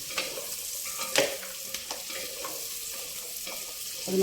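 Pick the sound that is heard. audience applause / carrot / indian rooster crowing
carrot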